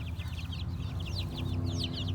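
Several chickens cluck and chatter nearby in quick, overlapping bursts over a low background hum.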